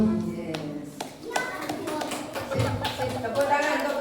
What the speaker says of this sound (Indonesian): Tepuk tangan untuk kelas 3.